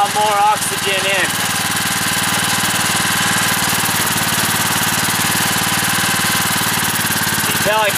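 Small generator engine fueled by wood stove smoke, running steadily and loudly close by with a constant rough chugging drone across the whole stretch, a voice speaking briefly at the start and end.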